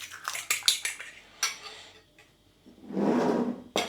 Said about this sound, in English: I'll start by beating an egg in a bowl first.